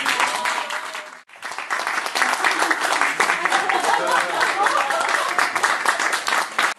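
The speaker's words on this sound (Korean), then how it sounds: "다시 한번 이렇게 좋은 연기해 주신 분께 큰 박수로 감사드립니다" An audience gives sustained applause in thanks after a performance, a dense, even wash of clapping from many hands that starts, breaks off briefly, then swells and carries on steadily.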